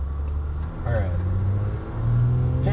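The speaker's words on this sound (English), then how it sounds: "You have a nice sound from the diesel." The diesel engine of a 2022 Dodge Ram EcoDiesel pickup pulls away from a stop, a low steady rumble heard from inside the cab that swells as the truck gets moving.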